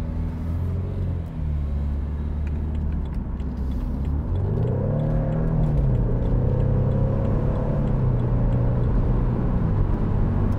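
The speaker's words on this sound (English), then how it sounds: "The sound of that engine is just phenomenal." A 2014 BMW Z4 sDrive28i M Sport roadster with a 2.0-litre engine drives along, its engine note rising and falling through gear changes over a steady low road rumble, heard up close without talk.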